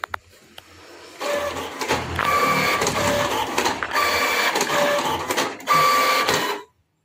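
A printer runs a blank three-copy test print after a paper crumpling problem, sounding as a loud mechanical whirring and feeding in repeated bursts with brief pauses between pages, then stopping.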